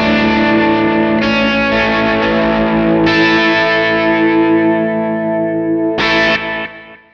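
Electric guitar run through a tremolo effect on a Line 6 Helix LT, with distortion: sustained chords in three long swells whose shimmer wavers steadily, fairly loud and alone, fading near the end.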